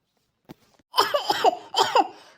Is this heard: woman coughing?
yes